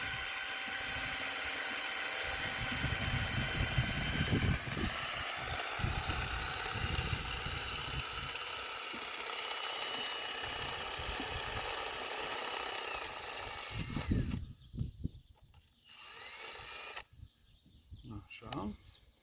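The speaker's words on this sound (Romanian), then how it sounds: "Se dă gaură cu bormașina." A power drill whines loudly and steadily for about fourteen seconds while boring into an ostrich egg, then stops and starts in short bursts, with a voice speaking in between.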